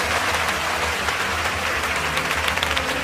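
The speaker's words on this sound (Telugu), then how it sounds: "ప్రియమైన సోదరీమణులారా అని స్వామి వివేకానంద అనగానే సభ 3 నిమిషాల పాటు చప్పట్లతో దద్దరిల్లింది." A large audience at Swami Vivekananda's speech applauds in a dense, sustained roar of clapping that stays even and loud throughout, with no voices on top.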